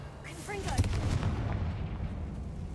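A Confringo blasting spell cast in Hogwarts Legacy, a deep booming explosion that rolls out and lingers as a low rumble after a brief spoken incantation.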